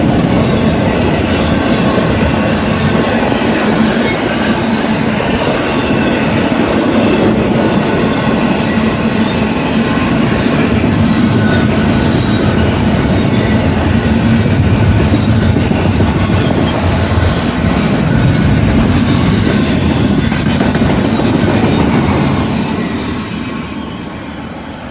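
A freight train rolls steadily past on the rails with wheels and cars rumbling loud and close for over twenty seconds, with some wheel squeal, before it fades slightly at the end.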